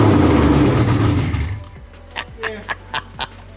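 Supercharged Fox body Ford car engine running loud and rough, a strong roar that fades out after a second and a half, followed by a few sharp clicks or pops and a low idle hum.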